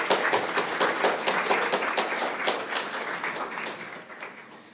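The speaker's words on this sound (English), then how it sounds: "if we could start with one round of applause for every student who was here this morning." Audience applause for students at a high school senior pride awards ceremony, a thick sustained wash of clapping from many people that gradually tapers off.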